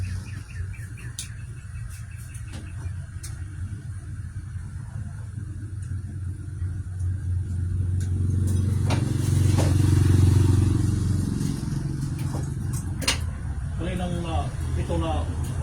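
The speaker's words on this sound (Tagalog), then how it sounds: "Compressor, rinig ko yung hagong" Low, steady hum of a car air-conditioning compressor running but blowing no cold air, droning close by and swelling louder midway, with people talking over it and some clatter.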